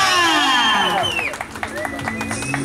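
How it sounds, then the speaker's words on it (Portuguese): A crowd at a birthday party claps and cheers for Camila, with whoops and whistles rising over the steady applause for a few seconds. "Uma salva de palmas para a Camila."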